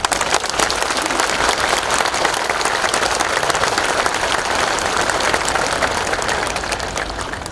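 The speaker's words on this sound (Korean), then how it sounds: "따뜻한 위로의 박수 부탁드립니다." Sustained applause from a ceremony audience honoring a fallen soldier's bereaved family, dense steady clapping filling the space for several seconds before tapering slightly at the end.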